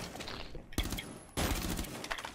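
Rapid automatic gunfire in the video game Rainbow Six Siege, two close, loud bursts of shots in quick succession with no talking over them.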